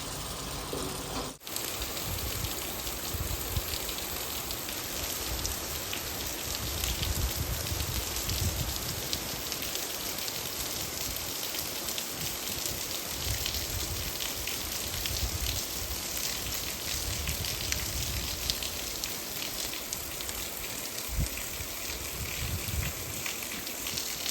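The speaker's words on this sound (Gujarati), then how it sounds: "હવે વરસાદ ચાલુ થયો" Rain falls steadily outdoors as a constant dense hiss of drops on surfaces, with a sharp knock near the start. Soft, irregular patters sit within the downpour.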